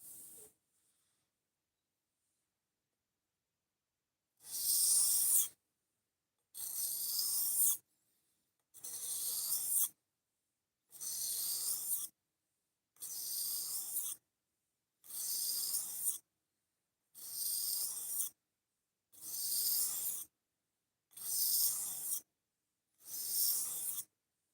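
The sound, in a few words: freehand knife sharpening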